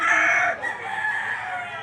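A rooster from Talisay, Batangas crows at a livestock auction market in Lipa City, Batangas, one long drawn-out call that fades toward the end, fairly clear with no talking.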